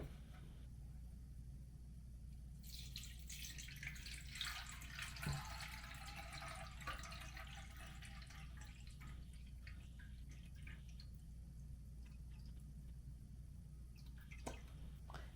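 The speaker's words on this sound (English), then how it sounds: "let's pour our water in." Water is poured into the tank of an Ambiano home humidifier, about five cups in all, with a steady splashing gush that runs for several seconds and then tapers off against a low background hum.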